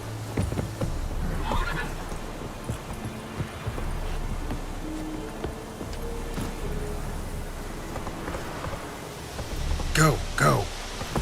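Roach, the horse in The Witcher 3, whinnying over a steady hiss like rain, with a few hoof clops and a louder snort-like burst near the end.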